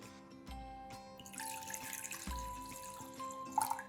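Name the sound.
water poured into a saucepan for tea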